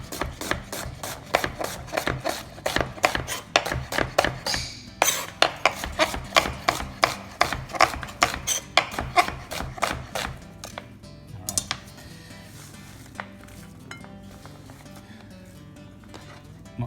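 Two large onions sliced with a knife on a cutting board, a fast run of sharp, close chopping knocks that slows and thins out toward the end, with no talking.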